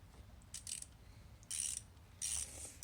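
Short bursts of a torque wrench ratcheting on a KTM 50 SX dirt bike during an oil change, four quick clicking runs, close and crisp against a quiet background.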